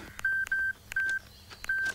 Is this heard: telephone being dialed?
yes